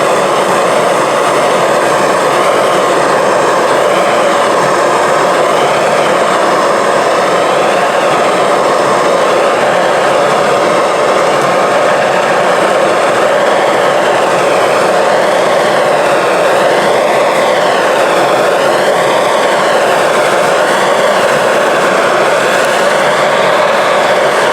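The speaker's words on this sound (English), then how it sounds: "I'm going to use a propane torch and heat it a little bit more." A propane torch roars steadily and loudly while heating black sand, a continuous close hiss that wavers slightly in pitch throughout, with no talking.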